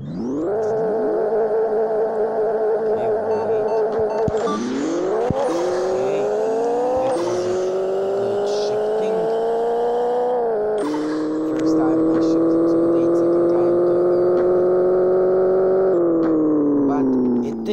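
Engine of a car in a Pixel Car Racer drag race, whining steadily upward through gear changes, each shift marked by a brief dip and a fresh rising pitch, loud and continuous throughout.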